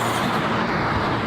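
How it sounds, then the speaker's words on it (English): Intake noise from an R600 intake fitted to a rebuilt, crash-damaged VW Mk8 Golf R while driving: a steady, broad engine-and-road roar with no distinct bursts and no talk. "the only noise I can hear is the R600 intake we've fitted"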